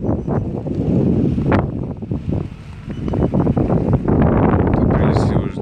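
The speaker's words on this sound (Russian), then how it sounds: "Очень плохо слышно, наверное, это из-за ветра. Здесь очень сильный ветер." Strong wind buffets the microphone in a loud, continuous low rumble, with muffled voices half-buried beneath the gusts.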